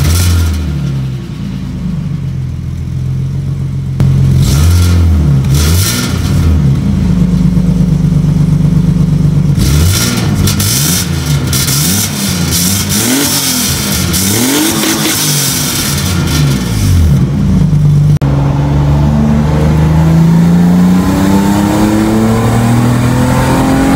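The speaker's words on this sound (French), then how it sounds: "Je vous filme la sonorité actuelle que j'ai avec ce silencieux-là sur la E30." A BMW E30 with a Supersprint muffler revs repeatedly, its exhaust note rising and falling in sharp blips before settling into a steady climb, loud and close with no talk.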